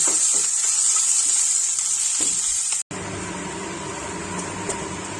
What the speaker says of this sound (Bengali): এখানে পেঁয়াজ রসুন আর কাঁচা লঙ্কা কুচি কুচি করে কড়া করে ভাজছি